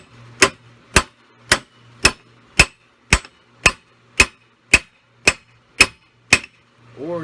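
A hammer strikes a wheel stud into a Yamaha Rhino 660 rear hub, eleven sharp metallic blows in an even rhythm about half a second apart, close and loud, with a faint hum underneath.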